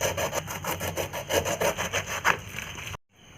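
A knife saws back and forth through a ripe pineapple, cutting off its top and bottom in quick rhythmic rasping strokes, close and fairly loud, then stopping abruptly.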